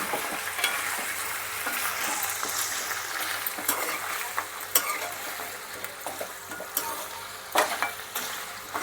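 Mutton pieces fry in oil for Andhra-style mutton fry, giving a continuous near sizzle with scattered crackles and occasional stirring scrapes and soft utensil knocks, and no speech.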